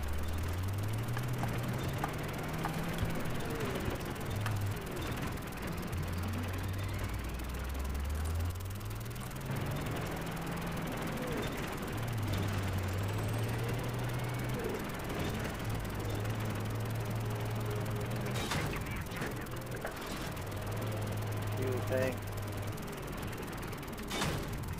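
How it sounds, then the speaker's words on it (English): A helicopter in Battlefield 3 gives a constant droning whir beneath a loud multiplayer battle, with bursts of gunfire, explosions and a rising and falling musical tone continuing throughout. "It's a chopper!"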